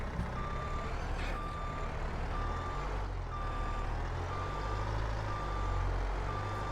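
Truck reversing beeps in a farming video game, a steady run of evenly spaced electronic beeps over a low, constant engine rumble, with no talking.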